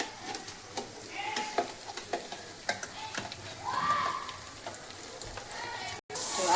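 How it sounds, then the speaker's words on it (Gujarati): Gravy is added to a hot pan of paneer and cashews, giving a faint sizzle with intermittent stirring and scraping taps close by. "હવે આપણે આમાં નાખી દઈએ ગ્રેવી."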